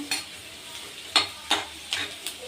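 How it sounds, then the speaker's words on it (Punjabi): Ginger frying with crackling cumin in hot oil, a soft, close sizzle broken by several sharp scrapes of a spoon stirring the pan at irregular intervals, with no voices. "ਜੀਰਾ ਸਾਡਾ ਚਟਕ ਜੇਗਾ ਤੇ ਇਹਦੇ ਵਿੱਚ ਅਸੀਂ ਪਾਵਾਂਗੇ ਜੀ ਅਦਰਕ ਅਦਰਕ ਨੂੰ ਅਸੀਂ ਲਾਲ ਕਰ ਲਾਂਗੇ ਥੋੜਾ ਜਿਹਾ"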